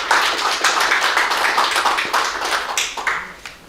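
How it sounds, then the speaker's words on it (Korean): An audience claps in welcome for a city mayor at a conference on COVID policy, a moderate patter of individual hand claps that thins and fades toward the end. "따뜻한 박수로 함께 맞아주시면 고맙겠습니다"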